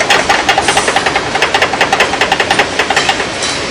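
Engine of a tractor on a tow rig, running steadily up close with a fast, regular chugging knock.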